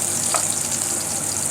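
Ginger slices, chopped shallots and minced garlic sizzle in a hot wok over medium-high heat, a steady close, bright frying hiss throughout with faint stirring scrapes and no talk.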